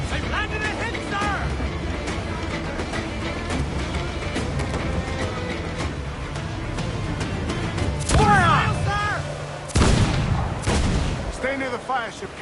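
Naval cannons fire in Assassin's Creed IV at sea, a run of heavy booms and cracking volleys, some close and loud, mixed with shouting crew voices and ambient battle noise.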